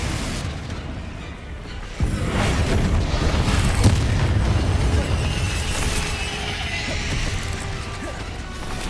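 Booming spell blasts and crashes in Hogwarts Legacy combat, a dense, continuous roar of impacts after a sudden loud onset, with no talk heard.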